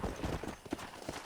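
Horse hooves clip-clop in a steady quick gait in Red Dead Redemption 2, close and fairly soft, with a light background hum.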